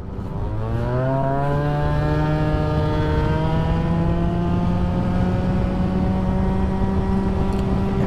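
A Jetforce scooter accelerating on a road ride, its engine note climbing steadily in pitch after a brief start and then holding a smooth, loud drone, close to the rider with no talk.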